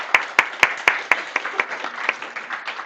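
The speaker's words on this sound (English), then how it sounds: "Let's give her a round of applause." A few sharp, evenly spaced claps ring out close by, then loosen into lighter, scattered applause from a small congregation at a spiritual living center service.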